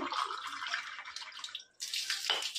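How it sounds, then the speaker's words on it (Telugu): Water pours into a cup, a soft trickling splash that breaks off briefly and then resumes, quiet and close with no voices. "సో ఇప్పుడు మనం ఫస్ట్ వాటర్ అనేది నింపుదాము"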